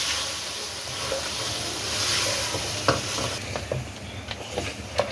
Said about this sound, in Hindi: अब इस टमाटर को इसके अंदर मिक्स करें